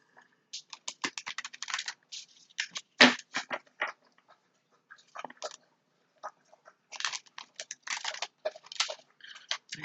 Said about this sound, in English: I want to give it a good shuffle.